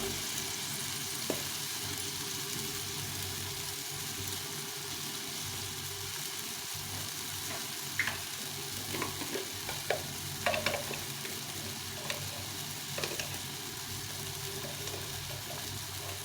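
Soybean mixture with cumin and Kashmiri chilli powder sautéing in a pan, a steady low sizzle running throughout with occasional scraping stir strokes that grow busier toward the middle and end, no voices.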